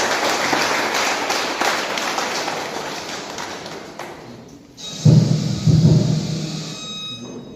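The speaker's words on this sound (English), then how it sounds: "with round of applause, let's welcome our director, Mr. Robert Kwakubio" An audience applauds to welcome a director onto the stage at a mid-year health directorate review meeting, steady clapping fading out before a few louder, close bursts of claps and thumps near a microphone.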